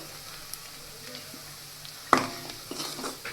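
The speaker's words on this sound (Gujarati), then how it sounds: "તેને હલાવીને મિક્સ કરી લેશું" Soft sizzling of spices frying in hot oil with turmeric and salt, scraping stirring sounds and a sharp clink of a utensil partway through, while cooking Gujarati Ratlami sev curry.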